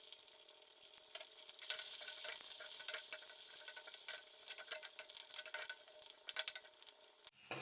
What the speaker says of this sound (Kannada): ಓಕೆ ಫ್ರೆಂಡ್ಸ್, ಈರುಳ್ಳಿ ಸಹ ಫ್ರೈ ಆಗಿದೆ